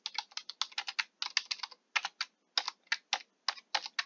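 Typing a vertical-axis chart title in Google Sheets on a computer keyboard: steady bursts of crisp key clicks in quick clusters with short pauses, close and clear, no talking.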